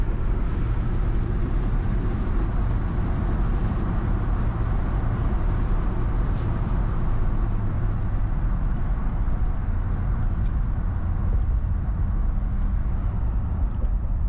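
Steady broadband road and engine rumble from a car cruising along a highway, continuous and fairly loud inside the cabin, with no talking.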